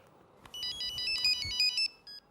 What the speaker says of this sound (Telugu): ఫోన్ రా మామ.